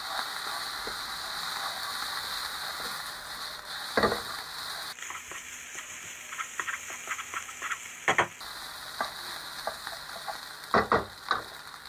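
Fried rice being stir-fried in a hot wok after sweet soy sauce is poured in, a continuous sizzle with irregular scraping and clanking strokes of the spatula, growing busier toward the end.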